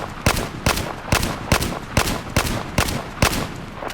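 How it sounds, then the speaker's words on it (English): SR338 sniper rifle in the video game Battlefield 4 fired in quick succession, eight sharp, loud shots at a steady rhythm of about two per second, each with a short ringing tail, no talking. "If you try and fire it at any faster than say about this, then it sprays everywhere."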